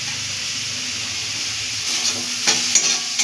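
Vegetable samosa filling sizzles in a pan while being stirred, a close steady frying hiss with soft scraping strokes that swell into louder crackling bursts toward the end.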